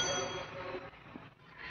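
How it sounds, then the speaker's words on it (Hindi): A prayer bell rings during a home puja, a faint, sustained metallic ding that fades over under two seconds, with no talk. "घंटी बज रही है हमारे घर की"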